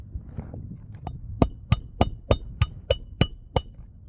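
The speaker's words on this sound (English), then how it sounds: "Just watch it when I hammer." A hammer taps a worn, deteriorating asphalt roof shingle in about eight sharp, evenly spaced close strikes, each a bright crisp knock, after a few softer handling sounds.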